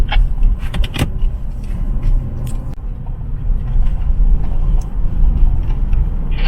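A van travels along a winding mountain road between Mae Suai and Doi Chang in western Chiang Rai, its engine and road rumble steady and close throughout, with a few light rattles inside the cabin.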